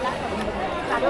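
Dense crowd chatter of worshippers at the Jejuri Khandoba temple (Shri Martand Devasthan), a steady babble of many overlapping voices filling a short moment, close and busy.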